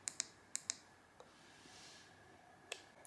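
Control buttons on Oxford HotGrips heated motorcycle grips fitted to a Honda Monkey 125 give a few quick, sharp, faint clicks in a short burst, then one more after a pause, over a quiet background hiss.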